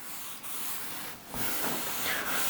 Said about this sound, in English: start waxing the door again, starting from the furthest part away from us and working back to myself